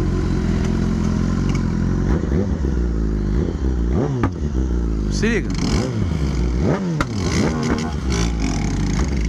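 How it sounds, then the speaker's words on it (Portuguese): A customized 2019 BMW S1000 motorcycle idles and revs nearby, its exhaust crackling and popping in bursts over the steady engine rumble, with someone talking over it. "Estouro que ela dá, ó, vou tirar a mão"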